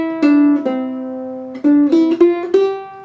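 A ukulele plucks a short run of single ringing notes, a few seconds long, close and clear with no talking.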